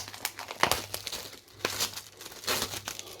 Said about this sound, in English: We remove the plastic